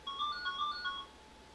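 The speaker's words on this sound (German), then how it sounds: "ich mache mal das Telefon aus" A phone rings nearby in a quiet room as a short melodic ringtone pattern of bright repeated tones, which stops after about a second.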